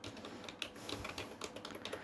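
Fingers type an IP address on a computer keyboard, a quick run of light, close key clicks in an uneven rhythm over two seconds with no voices.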